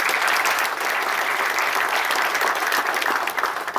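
An audience claps for the Indian Army at a book launch event in Pune, with dense, steady applause filling the room at full strength for several seconds before it thins slightly near the end.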